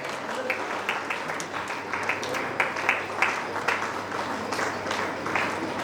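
Theatre audience at a national drama festival opening applauding the artists, a soft, somewhat distant patter of clapping that lasts the whole stretch.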